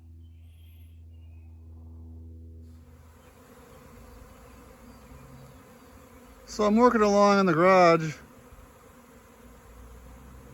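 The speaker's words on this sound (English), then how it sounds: "I hear what sounds like a mass of bees, a beehive, a swarm." A swarm of honeybees near a garage makes a loud, wavering buzz that swells suddenly for about a second and a half after someone speaks briefly over a quiet background.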